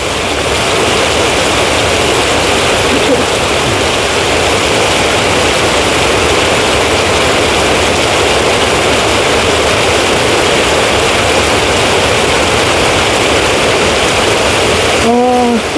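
Heavy early-morning rain pours down in a steady, dense hiss that holds without break from start to finish, loud and close, with a brief faint tone near the very end.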